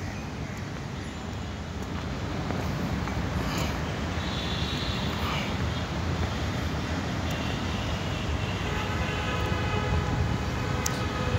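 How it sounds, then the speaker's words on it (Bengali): A metro rail train runs past beside a conference centre in Agargaon, Dhaka, as a steady, broad rumble and whoosh that builds slightly and holds for the whole stretch, heard from nearby outdoors without talk. "ছুটছে মেট্রো রেল, দেখতে পাচ্ছেন।"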